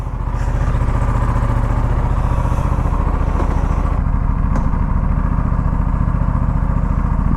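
A KTM RS 457 motorcycle engine runs steadily nearby after warming up, a loud, continuous rattling thrum with no break throughout.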